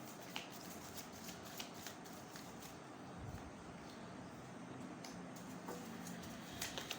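Tarot cards shuffled by hand in a quiet room, soft repeated riffling and light snapping taps spread evenly across the stretch, close and fairly faint, with no talking.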